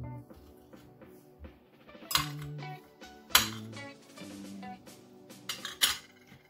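Chopped cucumber and dill are tipped into a small bowl, giving a series of quiet clinks and knocks of utensils against dishes, with a few sharper metallic taps.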